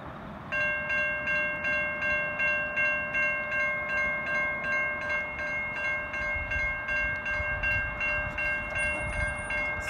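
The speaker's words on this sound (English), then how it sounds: "You can see the train's very close." A 4MS2 train passes through the Wallan level crossing at night, sounding a steady multi-tone horn over a continuous rumble and rhythmic rail clatter that holds loud and close throughout.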